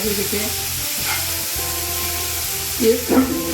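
Potatoes fry in a pan for a peanut usali fasting dish, giving a steady close sizzle with a few stirring scrapes, over faint tonal background music.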